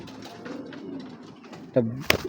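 A big female black racing pigeon with pearl eyes gives low cooing close by, building to a louder, sharper call near the end, with someone talking in the background.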